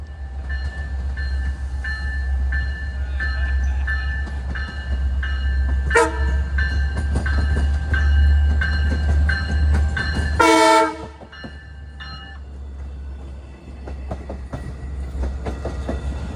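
Long Island Rail Road DE30AC locomotive #413 sounds its K5LLA five-chime horn in two blasts, a short one and then a longer, louder one, over a steady rumbling train ride between Babylon and Speonk.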